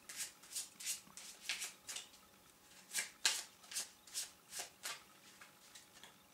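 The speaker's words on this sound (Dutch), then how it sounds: "Deze kaart schudden we door de stapel." A deck of playing cards is shuffled for a card trick, giving a regular series of about a dozen crisp riffling bursts, close and fairly quiet, with no talk over them.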